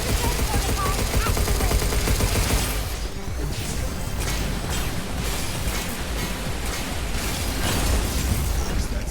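Gunfire and explosions in the video game Pragmata, with rapid bursts of shots and booming blasts that run on, dense and loud, through the whole stretch.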